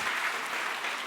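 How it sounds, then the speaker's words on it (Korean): A church congregation at a Sunday morning service in Korea claps in a brief, dense burst of applause, steady and fairly loud, with no voices over it. "박수 한번 해주시기 바랍니다."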